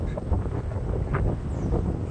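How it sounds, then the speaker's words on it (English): Strong wind buffeting a microphone beside a lake where an RC boat runs, a steady loud low rumble with gusty swells throughout, close and dominant. "Not realize the wind was kicking that strong."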